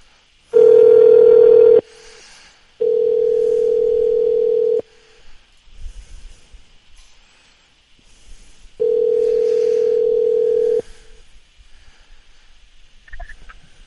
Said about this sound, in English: We hear the ringing soon.